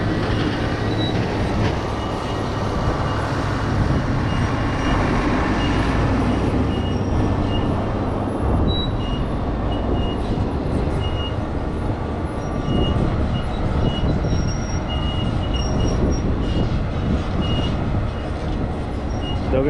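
Heavy continuous rumble and clatter of a truck's moving floor pushing out a load of corn silage during harvest, loud and steady throughout with mechanical grinding and no talking.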